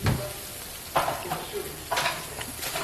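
Butter sizzles on a hot sizzling plate for sisig, a close crackling hiss punctuated by about four louder bursts as ingredients are moved or stirred across the metal.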